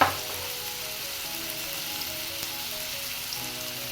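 Spices for matar paneer fry in hot oil with a steady, dense crackling sizzle that runs unbroken and close, with no voices.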